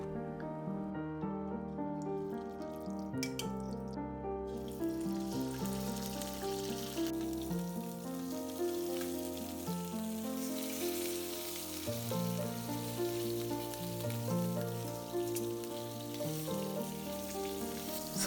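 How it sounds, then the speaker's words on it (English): Stuffed chilli fish fry in hot oil in a wok, giving a continuous soft crackling sizzle with no talk, and rhythmic kitchen music plays in the background. "Add a fresh batch of oil and repeat the frying process."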